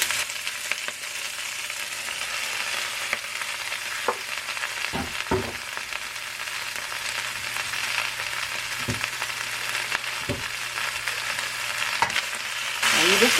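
Vegetables with garlic and ginger sauté in oil in a pan for shrimp lo mein, giving a continuous close sizzle broken by a few sharp clanks and scrapes of a utensil, with no talking.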